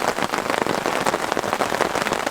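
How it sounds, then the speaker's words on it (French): Heavy rain pours outdoors at a carp-fishing spot on a bank, a dense, loud, continuous hiss of drops pattering on surfaces with no gaps and no voices. "Donc du coup vous voyez il pleut bien en ce moment là"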